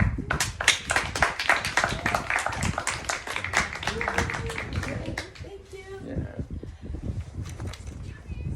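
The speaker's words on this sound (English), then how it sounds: "Everyone give another round of applause for Patrick." Audience applause at a talk on rewilding and nature: many hands clap in a dense, lively burst that thins out over several seconds into scattered claps, with voices murmuring underneath.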